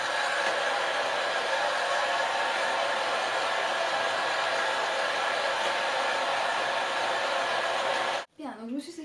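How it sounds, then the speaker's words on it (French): A Philips ceramic hair dryer drying hair blows with a steady, loud whooshing roar for about eight seconds, then cuts off abruptly and a voice begins speaking. "Sécher les cheveux vite fait."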